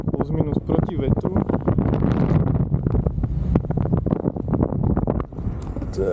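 Strong wind buffets the microphone during a paragliding flight over a ridge, a loud continuous rushing roar with gusty swells, while someone talks over it.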